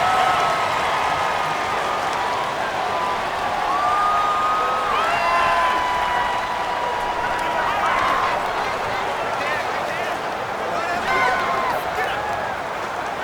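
Broad, steady roar of a stadium crowd at an NFL game in Madden NFL 19, swelling slightly at moments, with a commentator's voice over the top.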